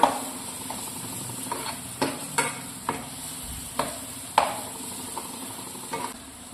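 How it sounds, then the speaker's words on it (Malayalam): Spice powders are sautéed with leftover rice in a pan while a spoon scrapes and stirs, giving repeated sharp clinks over a soft, steady sizzle. "അതുവരെ നമുക്കൊന്ന് വഴറ്റിയെടുക്കാം."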